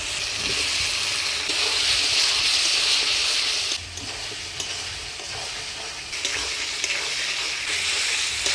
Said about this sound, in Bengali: মশলাটা প্রায় কষে আসছে, এবার ভাজে রাখা আলুটা দিয়ে আর একটু কষে নিব।